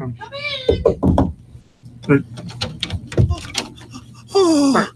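Knocks on a house door as a radio-play sound effect, a few sharp raps mixed among lively voices and a cat-like meow imitation, close and loud.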